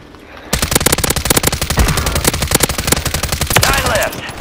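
Rapid automatic gunfire in a Call of Duty Warzone 3 quads match bursts in after a brief quiet and keeps up in fast, loud, close volleys with a few short pauses.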